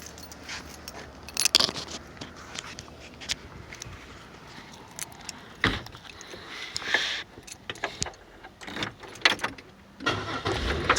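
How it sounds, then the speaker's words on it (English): A car being started during an AC recharge job, with jangling keys and clunks followed by the engine cranking and catching, then running under scattered handling noises close by. "you want to go in and start the car"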